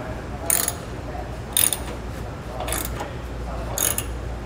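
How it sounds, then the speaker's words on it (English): A hand ratchet drives a bolt into a trailer hitch on a 2019 Ford Transit T350, giving four short bursts of rapid clicking about a second apart over a steady background. "So we'll just keep going until most of this bolt is all threaded in."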